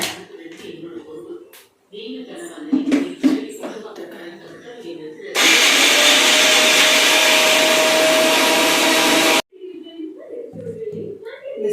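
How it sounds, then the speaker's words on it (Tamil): A mixer grinder whirs loudly and steadily for about four seconds while grinding garlic chutney, starting and stopping abruptly, with someone talking before and after. "இப்போ அரைச்சிடலாம்"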